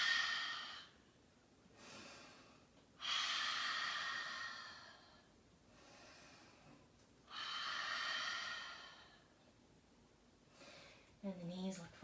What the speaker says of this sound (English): when you exhale, open the mouth and say ha. Take 3 breaths this way